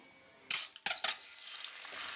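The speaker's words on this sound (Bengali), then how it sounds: "ডিমটা আমি এবার ভেজে নেব।" Sharp crackling sizzle bursts out as eggs hit hot white oil, a few loud pops and spits settling into a steady frying hiss.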